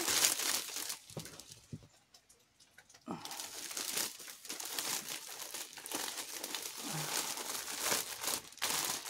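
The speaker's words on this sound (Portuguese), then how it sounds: "Eu tenho aqui um pacotinho plástico." A small plastic bag crinkles up close as large crochet roses are packed into it, steady rustling and crackling with a brief quieter pause, no talking.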